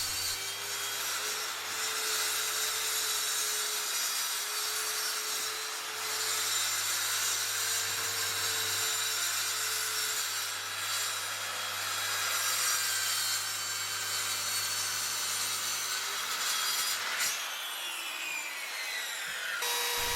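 Hand sawing along one edge of clamped wooden gate boards, a steady rasping stroke rhythm running continuously and close, with a low hum underneath and a brief pause near the end.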